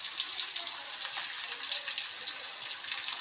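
Slit green chillies sizzle in a hot pan of oil with onion and garlic, a steady close crackling fry with bright spattering that holds evenly throughout, with no talking.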